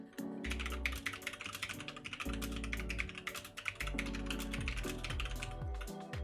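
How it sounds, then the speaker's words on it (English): Rapid clicking on a computer keyboard during a streamed coding session, a dense, continuous run of close keystrokes with occasional heavier thumps and brief pauses. "I'm definitely going to get better at typing from all of this."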